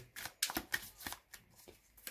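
Tarot cards riffle and snap in several quick bursts, crisp papery shuffling up close with no talking.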